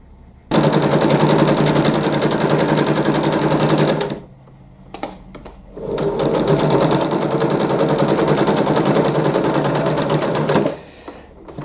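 Sewing machine stitching a quick zigzag hem along a square of fabric for a beeswax food wrap, running loud and steady in two long bursts with a brief pause between and no talk.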